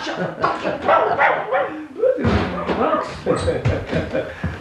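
A small dog barks and yips repeatedly in a Romanian radio play of the Good Soldier Svejk, loud and close, mixed with human voices talking and calling out over and between the barks.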